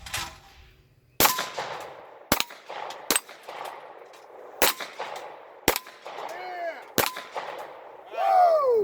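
Several sharp gunshots ring out one at a time at an outdoor shooting range, loud and close with irregular gaps between them, while faint voices murmur in the background.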